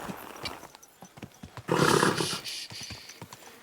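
A horse in the medieval video game Kingdom Come: Deliverance II clip-clops along with steady hoofbeats, then lets out a loud, close whinny partway through before the hooves carry on.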